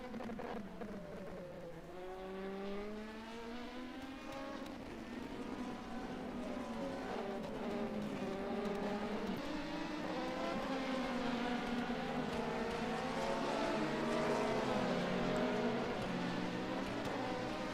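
Sports-class race cars in a three-hour endurance race at Mid-Ohio run through turn 1, several engines rising and falling in pitch as they brake and accelerate, moderately distant and continuous, no voices.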